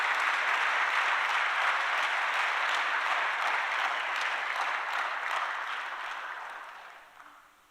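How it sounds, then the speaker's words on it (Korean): A Presbyterian church congregation at a Sunday service claps to welcome a pastor, a dense, even patter of many hands that holds steady and then fades out near the end. "우리 목사님 한번 환영하는 크게 박수 한번 하겠습니다"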